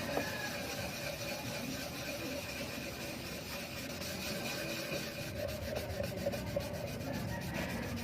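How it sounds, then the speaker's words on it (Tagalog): A rag rubs lemon oil in circles over a scratched wood surface, giving a steady, close, continuous rasping friction with no break and no voices. "Kuskusin mo lang ng kuskusin niyan,"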